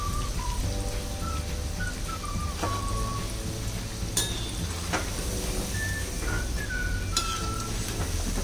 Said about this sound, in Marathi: आता असेच आपण सर्व तळून घेऊया।